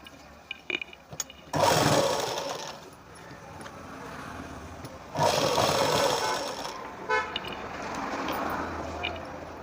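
Sewing machine stitching the lining of a Punjabi dress, running in two bursts of whirring at close range with handling clicks and a quiet stretch between them.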